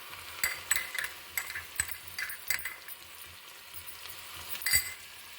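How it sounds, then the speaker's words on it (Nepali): Garlic and dried chillies sizzle in hot oil to temper a yam leaf curry, a faint steady crackle with scattered light clinks of a metal spoon against the pan. "यसरी मैले लसुन लिएर सुकेको खुर्सानीले झान्दैछु"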